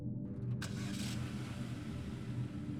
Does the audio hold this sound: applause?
no